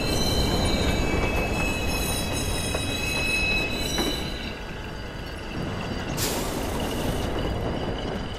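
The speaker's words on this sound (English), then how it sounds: "Northbound train arriving shortly." A train pulls into a station in Watch Dogs, a loud sustained rumble of wheels on rails with high squealing tones and a brief hiss of air brakes near the end.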